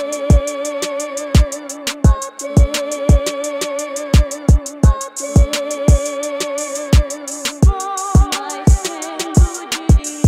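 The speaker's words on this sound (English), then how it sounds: "Let's add in the open hat, which plays a syncopated pattern, adding more rhythm to the bounce to the rhythm." Syncopated open hi-hat hits in a trap beat, sharp bright accents ringing over a looping melodic sample and punchy kicks, evenly loud and with no voices.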